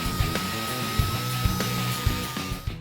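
A pneumatic die grinder runs continuously with a loud, steady high-pitched whine and airy hiss, broken by small periodic knocks, close up with no talking.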